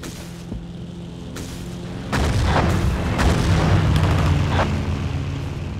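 Deep booms and blasts in the video game Battlefield 1942 land one after another, some close and heavy, rumbling over a low steady drone.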